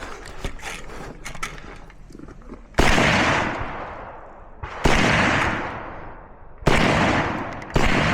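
Gunshots at a rifle shooting match ring out as four sharp, loud blasts a couple of seconds apart, each trailing a long echoing decay, with faint clicks and handling noise between them.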